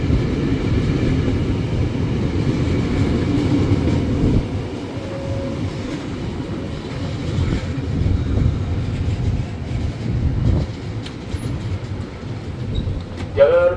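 A KRL Commuter Line electric train at Manggarai station's upper platform, a low rolling rumble with faint clatter over the rails, heard alongside platform announcements and voices.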